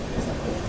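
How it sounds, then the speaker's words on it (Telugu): Secunderabad-Guntur Intercity SF Express running through a curve near Challapalli, a steady low rumble of wheels and carriages heard from on board, continuous and moderately loud. "చల్లపల్లి నుంచి కొంచెం ముందుకు రాగల బ్యూటిఫుల్ కర్వ్ అయితే కొడుతుంది మన ట్రైన్"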